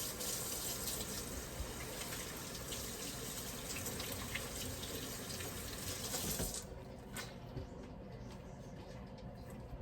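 Hands are washed under a running kitchen tap, a steady close splash of water with small shifts, quieting to a softer trickle near the end.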